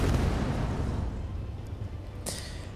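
A triple battleship cannon firing in Space Engineers, a deep rumbling boom that rolls and decays over a couple of seconds, with a sharper crack near the end.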